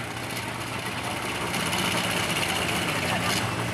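A pulling tractor at an NTPA tractor pull event in Elk River, Minnesota, idles with a loud, steady, heavy rumble that holds evenly throughout, set against constant outdoor background noise.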